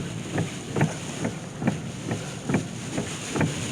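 Gusty wind and driving rain during a storm at Ocean Shores, Washington, heard from inside a car with the wipers on full, rising in repeated rhythmic surges over a steady roaring wash.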